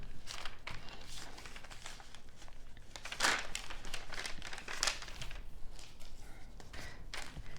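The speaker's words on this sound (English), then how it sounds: "And I will tear the different colors of the paper" Colored paper torn by hand for collage, giving steady close crinkling and ripping with a few sharper louder tears, and no talking.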